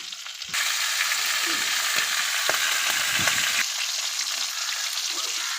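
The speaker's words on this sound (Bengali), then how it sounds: "আলাদাভাবে মাথাটা এবং ডিম যে ছিল ডিমটা ভাজছি" Hilsa fish head and roe fry in hot oil in a pan, giving a loud, steady sizzle that jumps up sharply after the first half-second and stays dense throughout, with a few faint scrapes underneath.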